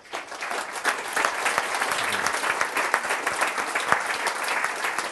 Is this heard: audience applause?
yes